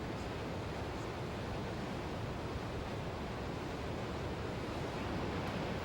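Ocean surf at Fistral Beach, a dense continuous wash of breaking waves with wind noise, steady and loud throughout with no distinct individual crashes.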